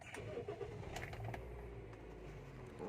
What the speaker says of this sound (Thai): เดี๋ยวลองมาสตาร์ทกัน